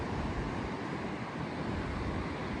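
Steady coastal wind buffets the microphone near Cape Nelson on the Great South West Walk. The roar is loud and unbroken, with a low rumble that could be surf, and no voices.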